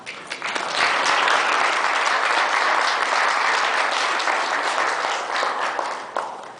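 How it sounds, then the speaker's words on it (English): Wedding guests break into a full round of applause, dense, continuous clapping that swells quickly, holds steady and loud for several seconds, then tapers off near the end. "And a round of applause."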